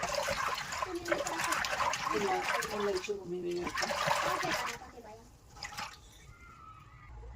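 Water running and dripping as soaked green peas are rinsed, with trickling and splashing throughout and a voice speaking over it for the first few seconds before the sound eases off.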